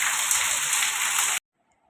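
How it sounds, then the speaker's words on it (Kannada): Rain falls steadily as a continuous, even hiss of moderate loudness, then stops abruptly into near silence. "ಹೆಂಗೆ ಬರ್ತದೆ ಮಳೆ."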